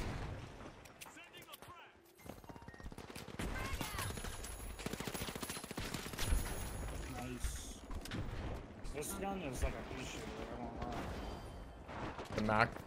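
Bursts of gunfire from the Mac gun in the shooter game The Finals, rapid cracking shots in clustered volleys with booming impacts, mixed with a player talking over the action.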